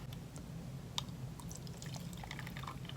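Water is poured into a tiny makeup brush washing machine, giving a soft, close trickle with scattered drips over a low background hum.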